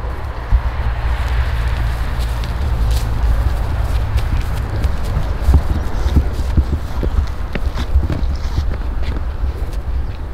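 A young foal's hooves clop steadily at a walk toward a footbridge, close and even-paced, with light wind and no talking.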